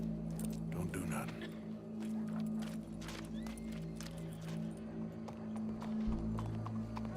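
Horse hooves clip-clop in the Red Dead Redemption 2 video game, a steady run of soft knocks under a low engine-like drone and game background sound, with some talk mixed in.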